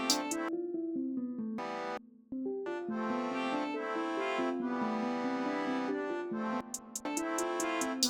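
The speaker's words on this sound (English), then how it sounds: "So I'm gonna send the accordion and all the melodic stuff to the reverb." A beat made in FL Studio, with accordion and other melodic parts sent to hall reverb. The sustained chords and melody ring out full and roomy over steady bass and sharp hi-hat ticks, with no voices, and drop out briefly partway through.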